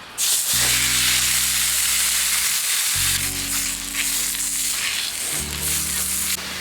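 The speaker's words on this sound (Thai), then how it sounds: "ทอดกันนะครับที่นี่" Pork pieces frying in hot oil give a loud, steady sizzle with no talking, while a low rumbling hum fades in and out beneath it in long stretches.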